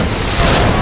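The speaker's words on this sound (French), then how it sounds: "l'explosion du laboratoire" A laboratory explodes in the video game Resident Evil 2 Remake with a loud, dense, roaring blast that fills the whole short moment without a break.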